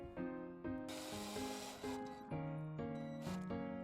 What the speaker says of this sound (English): go ahead and drill it in